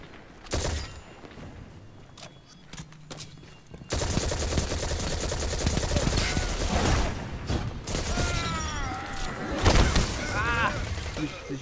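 Rapid bursts of gunfire and sharp impacts from Destiny 2, loud and dense, with someone talking excitedly in German over the shooting.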